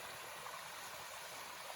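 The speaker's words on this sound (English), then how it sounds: "Here's a little waterfall action for you. Tiny waterfall, but I love the noise." A tiny waterfall on a creek along a trail, rushing in a steady broadband wash that stays even and close throughout, with no voices over it.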